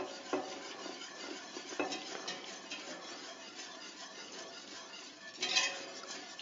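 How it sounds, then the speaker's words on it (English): Heavy cream being whisked into hot bourbon butterscotch in a pan, a steady scraping stir with a few louder clinks of the whisk against the metal near the start and end, close and fairly quiet with no talking. "we are going to start by whisking in our heavy cream"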